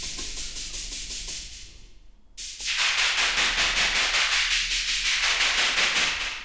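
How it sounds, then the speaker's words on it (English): Synthesized hi-hats built from noise in DRC: a rapid, steady stream of hissy ticks that briefly drops out, then returns brighter with a sweeping filtered swell, loud and alone. "these are some hats made with noise"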